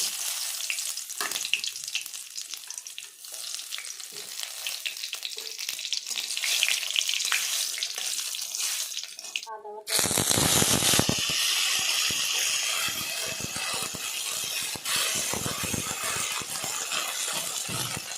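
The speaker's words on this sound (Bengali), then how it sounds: "ফোড়নের জন্য তেল দিয়ে দেবো ফোড়নে জিরে শুকনো লঙ্কা তেজপাতা দিব" Whole spices, cumin seed, dried red chilli and bay leaf, drop into hot oil for a Bangladeshi khichuri tempering, giving a steady close sizzle that bursts louder and brighter partway through and then keeps crackling without talk.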